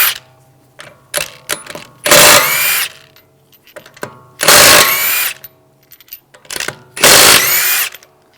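A power impact tool with a 19mm socket backs lug bolts off a 2013-2016 Dodge Dart wheel, three loud bursts of whirring rattle separated by quieter clicks and handling noises.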